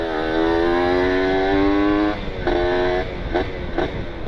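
Kawasaki Ninja two-stroke motorcycle with a carburetor, engine held at a steady rising whine for about two seconds, then dropping and blipping the throttle in short revs, loud and close with no talk.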